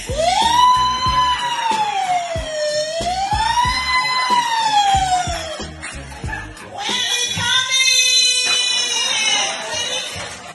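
A voice imitates a broken-down ambulance siren, a wavering, wobbling wail rising and falling, then breaking into shorter stuttering tones, with crowd noise beneath.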